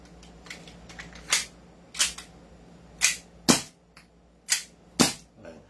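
Gas blowback airsoft pistol fired seven times at irregular intervals, each a sharp snapping crack against a quiet room background, with a few fainter clicks between shots.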